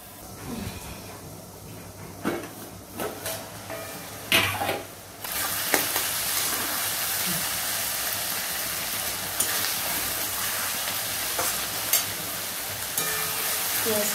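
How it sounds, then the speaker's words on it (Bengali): Prawns and onions frying in a pan, stirred with a few scraping strokes at first, then a strong continuous sizzle after the heat is raised, close and loud, no talking. "ভালো করে নেড়ে দিলাম।"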